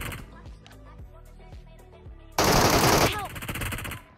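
Gunfire in the Metro Royale shooter game: a few spaced single shots, then a dense loud automatic burst of about a second, trailing into fading echoes.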